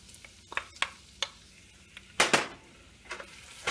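Garlic dropped into hot oil in a pan for a tomato pasta sauce, sizzling in short crackling bursts with a few sharper spits, fairly quiet and close, no voices.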